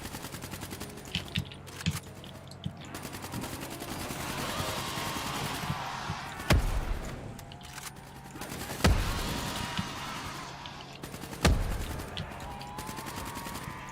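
Zombies explode one after another in a Nightmare-mode video game, with three loud booming blasts standing out over a dense layer of gunfire, whirring machinery and clattering game effects.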